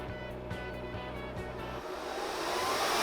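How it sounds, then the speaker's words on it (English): An Air Venturi Nomad II air compressor's cooling fan spins up, a steady whirring hum with a motor drone that swells louder toward the end, heard alone without talking. "When I turn the power on, you're gonna hear the fan really start up."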